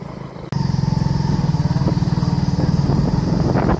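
A motorcycle engine rumbles loud and close while riding off-road, revving with a steady throbbing pulse after a sudden start over rough ground.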